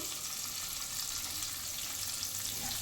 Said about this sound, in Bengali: বাটারটা ভালোভাবে একটু নেড়ে নেবো।